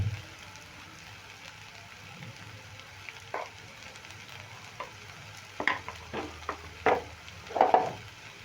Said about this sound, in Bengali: চাট মশলাটা দিয়ে পুরটা ভালো করে নেড়ে নেব